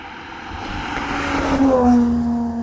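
A Ferrari Purosangue SUV drives fast and close, its engine note rising steadily in pitch as it accelerates over a few seconds, loud and with no voices.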